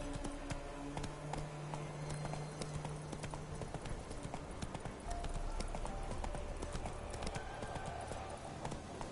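Hooves of Roach, the horse in The Witcher 3 game, clip-clop in a fast steady gallop across the whole stretch with light ambient game sound beneath. No one speaks.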